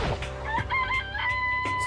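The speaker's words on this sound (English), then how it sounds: "It's a chicken. It's really alive" Chicken clucking and crowing from the Danganronpa: Trigger Happy Havoc video game, a short, loud series of bird calls with no talk.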